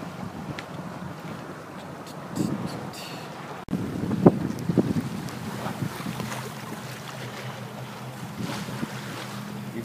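Sailboat heeling in moderate wind on Lake Michigan in October, with water rushing along the hull and wind buffeting the microphone, plus occasional creaks and splashes, steady and close.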